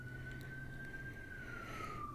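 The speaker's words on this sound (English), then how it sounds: "And with the ambulance showing up in the background" A faint ambulance siren wails in the distance as a single slow, steady tone that drifts gently downward, sitting behind a low constant hum with no voices present.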